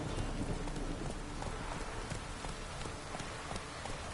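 Roach the horse gallops in The Witcher video game, its hooves drumming in a quick, even clip-clop beneath a steady wash of background noise, fairly faint throughout.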